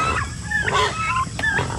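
Turkeys on a small low-budget farm give short, clear gobbling and clucking calls in several bursts over steady farmyard background noise.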